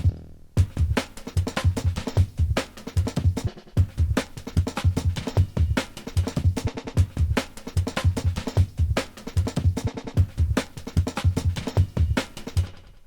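A drum loop with Beat Repeat fill variations plays alone, with punchy kick and snare hits in a steady groove broken by rapid stuttered repeats and short gaps.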